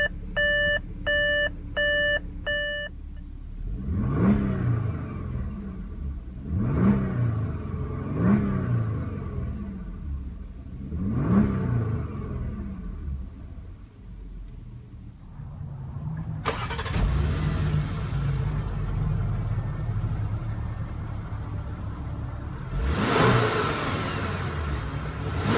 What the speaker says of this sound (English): push the start button located on the center console once to start